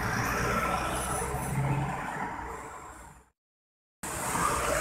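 A double-decker bus at a Singapore bus stop, its engine rumbling loud and close with broad road noise and a hiss, fading before a brief silence and then resuming.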